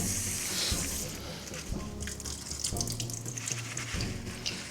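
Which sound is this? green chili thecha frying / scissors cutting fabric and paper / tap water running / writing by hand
tap water running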